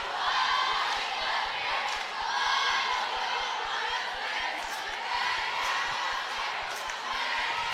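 A student cheer block at a high school basketball game chants and yells in a dense, sustained roar filling the gym, with rhythmic stomps or claps pulsing underneath throughout.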